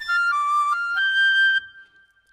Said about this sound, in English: I'm going to hit this Chinese dizzy flute.